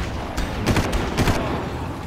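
Gunfire rings out in the Far Cry video game, several loud close bursts of automatic shots in quick succession over a constant background rumble.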